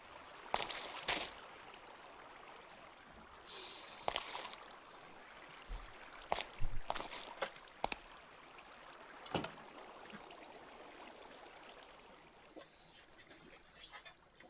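Flowing water in the Minecraft video game, a faint steady trickling stream running throughout, with brief clicks and game sounds over it.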